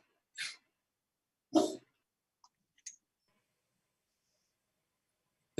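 A dog gives two short, sharp barks a second apart in a quiet room, followed by a couple of faint clicks and another bark cut off at the end.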